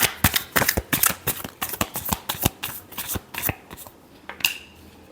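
Tarot cards being shuffled in quick, crisp riffling bursts, a rapid run of papery slaps and flutters up close, fading to a softer shuffle at the end.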